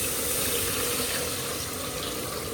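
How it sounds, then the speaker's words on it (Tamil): Tamarind water pours steadily into rasam in a pan, a continuous close liquid gush with no talking. "இப்போ வந்து இந்த புளி கரைசலை சேர்த்துக்கலாம்"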